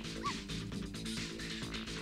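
Missile the dog in the game Ghost Trick gives a short yippy bark over a looping musical background.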